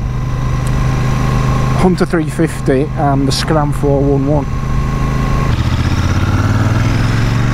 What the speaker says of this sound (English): so this engine's nicely running now